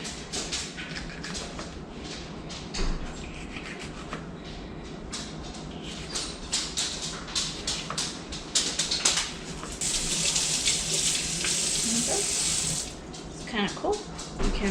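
Tap water runs into a sink as seeds are rinsed out of green chile rings, a steady splashing stream that grows louder and brighter for a few seconds near the end, with no talking.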